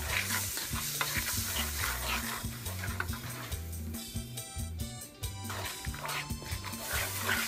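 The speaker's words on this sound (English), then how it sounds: "And just mix this until all the ingredients combine very well." Butter and seasoning mixture for stir-fried crawfish stirred in a pan, with repeated scraping strokes over a sizzle, close, with background music and a little voice.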